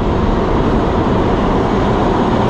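New York subway train ride: a loud, steady broadband rumble and roar fills the car without a break, with no distinct clanks or voices.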